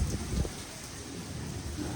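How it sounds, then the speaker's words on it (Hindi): Heavy rain pours at night in a Punjab village, a dense, continuous wash of noise with low rumbling underneath. "अभी जो है वो तेज़ बारिश शुरू हुई है।"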